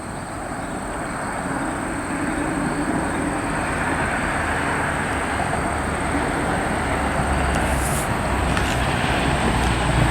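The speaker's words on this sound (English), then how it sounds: "Oh, train inbound." An inbound train passes near Amsterdam Riverlink Park, a loud, steady broadband rumble with rail hiss that holds for the whole stretch, fairly close, with no talking.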